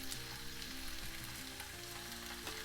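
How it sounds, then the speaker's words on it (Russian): Tomato paste fries in a pan with grated carrot and onion for meatball gravy, giving a steady, close sizzle with faint stirring scrapes and no voices. "Томатную пасту обязательно нужно пережарить с луком и морковью."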